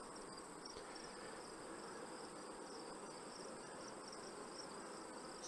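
Honeybees buzz steadily at an open beehive during a hive inspection, a dense continuous hum with no voices.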